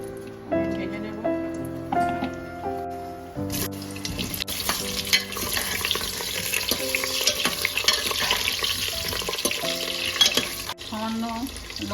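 Potatoes frying in mustard oil inside a pressure cooker give a steady, fairly loud sizzle that takes over after a few seconds of music, with the music continuing underneath.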